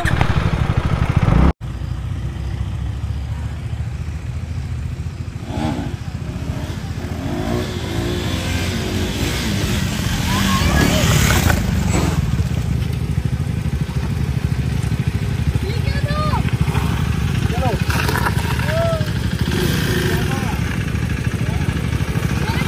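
Motorcycle engines rev and roar as bikes accelerate past in a drag race, loud and sustained, with wind noise and voices mixed in.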